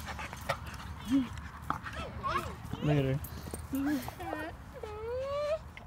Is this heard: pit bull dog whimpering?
yes